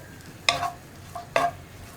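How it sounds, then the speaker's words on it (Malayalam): Grated coconut dry-roasts in a pan without oil, with two quick scraping stirs standing out against a faint background hiss. "ഞാനിപ്പോൾ വെളിച്ചെണ്ണ ചേർക്കാതെയാണ് തേങ്ങ വറുത്തെടുക്കുന്നത്."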